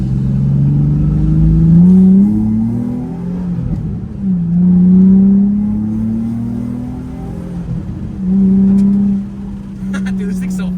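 A Nissan 350Z engine revs and surges while driving, rising and falling in pitch through several gear pulls, with a person talking over the steady drone.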